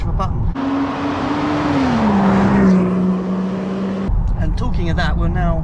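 A 2024 Range Rover Sport Hybrid sounds off through its exhaust in a loud, steady drone whose pitch eases lower partway through, cutting out abruptly toward the end, with voices heard before and after.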